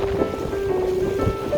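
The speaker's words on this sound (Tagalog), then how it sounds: "Sana tumila na ang ulan para hindi tayo mahirapan mamaya pag-uwi." Steady rain pours down outdoors as a continuous broadband wash, with a sustained hum running underneath it and a few soft thuds. No one speaks.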